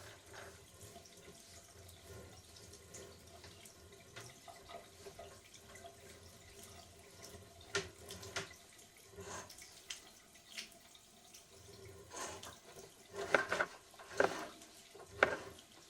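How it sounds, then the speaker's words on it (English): Water runs steadily from a laundry room sink into a drain through 4-inch cast iron sewer piping, a soft continuous splashing with occasional louder gurgles and drips. "We are running some water from the laundry room sink to ensure that our pipe is watertight"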